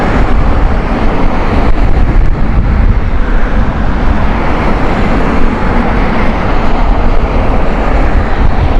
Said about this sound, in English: we've got a BA A350 just taken off